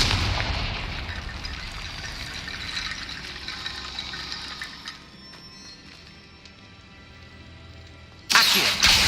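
A Confringo explosive spell blast in the Hogwarts Legacy video game, a loud rumbling burst that decays into a long fading roar and hiss, followed by a sharp new impact at the end.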